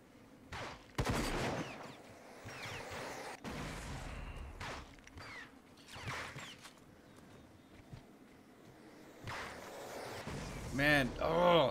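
Video game gunfire in a rage-filled shooter session, with bursts of rapid shots and whooshing impacts scattered across the clip, moderately loud, while someone talks in brief excited remarks over the action.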